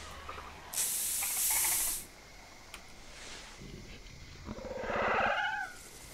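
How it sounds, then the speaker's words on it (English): Scent spray hissing in theHunter Primal, a loud pressurised spray burst lasting about a second, then a second hissing spray later, with quieter game ambience in between. "Oh, I've got to spray myself"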